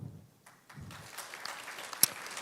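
Applause from a conference audience at a political science association event greeting invited presenters, starting softly and swelling into steady clapping with a sharp louder clap near the end.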